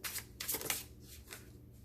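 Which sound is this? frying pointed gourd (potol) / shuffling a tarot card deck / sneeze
shuffling a tarot card deck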